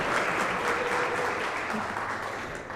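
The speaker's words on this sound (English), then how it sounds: "Big round of applause." Steady applause from an audience at a Teacher of the Year ceremony, a dense wash of clapping that holds evenly throughout and fades slightly at the end.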